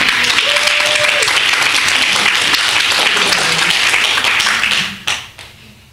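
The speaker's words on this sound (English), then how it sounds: "these people really deserve a round of applause for that" Dense, steady applause from an audience at a Dallas civic arts meeting, filling the room for about five seconds before tapering off into a few scattered claps.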